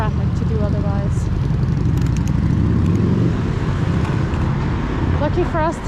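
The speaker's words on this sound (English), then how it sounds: "Too much traffic to do otherwise." City traffic rumbles along a busy Paris street, a dense steady roar of cars and motorcycles passing close by, while voices talk over the noise throughout.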